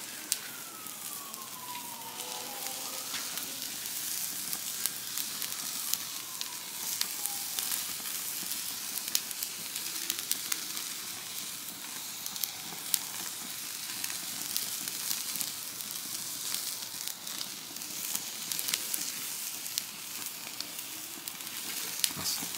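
Tri tip steak searing in a hot pan or on a grill, a steady bright sizzle and crackle running without pause, close and even, with no talk.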